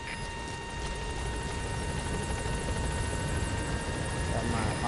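A continuous helicopter rotor drone from the video game Metal Gear Solid V hums steadily throughout as the Pequod helicopter arrives, with voices talking faintly over it.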